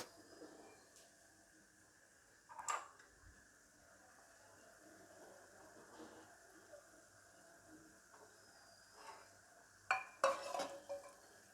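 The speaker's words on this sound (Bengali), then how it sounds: "এবার ডালটা এর মধ্যে দিয়ে দেবো।" Dal lentils go into a pan in a home kitchen, giving a quiet low sizzle with a few scraping, clinking stirring strokes at intervals, the loudest near the end.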